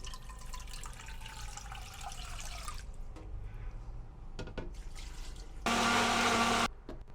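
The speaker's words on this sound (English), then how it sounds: "Put everything in the blender," A kitchen blender whirs loudly for about a second near the end while it blends Nigerian okra soup ingredients with water. Earlier comes softer clatter and rustling with faint trickling water.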